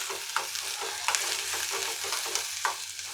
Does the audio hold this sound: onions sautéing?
yes